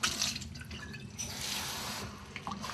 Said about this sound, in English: I rinse this cup out a little bit